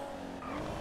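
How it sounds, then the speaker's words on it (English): A car engine in the game GTA 5 drones with a sustained tonal hum for under a second, loud and steady with a slight rising pitch and faint tire noise, with no talk. "The car does sound amazing."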